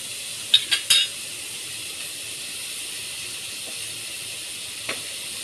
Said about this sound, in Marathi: आता कांदा टाकून घ्या आपण. कांदा चांगला परतून घेऊ.